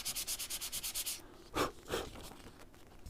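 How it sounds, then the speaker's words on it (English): A drill spins a sanding attachment against airbrushed paper in a quick run of rhythmic scratchy pulses, followed by a couple of louder rubbing strokes, close and fairly soft. "paper is just a wood product, so sanding does work on it"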